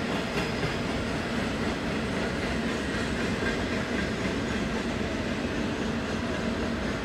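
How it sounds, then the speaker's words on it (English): A garbage train, numbered 2120, rolls past on the rails with a steady, loud rumble and rhythmic wheel clatter that fills the whole stretch without a break. "That's 2120, the garbage train."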